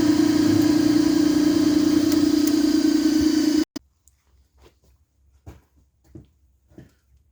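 A cylinder head cutting machine for aftermarket LS heads runs with a steady loud mechanical hum, then cuts off abruptly, leaving faint clicks and handling noises in a quiet shop.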